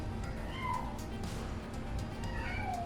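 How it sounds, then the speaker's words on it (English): Cats meow a few times nearby, short drawn-out cries over a low background hum, with no talking. "Sorry if you hear my cats."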